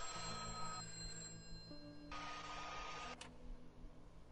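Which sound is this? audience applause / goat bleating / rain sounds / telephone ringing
telephone ringing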